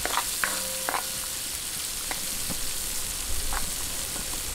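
Chopped onion and garlic sauté steadily in a hot pan for a Filipino pork humba, giving a continuous close sizzle with a few light clinks of a utensil and no voices.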